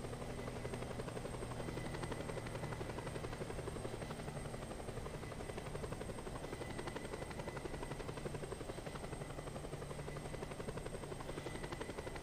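A helicopter in the video game Just Cause 2 drones steadily throughout, a constant buzzing rotor and engine hum at even volume with no break.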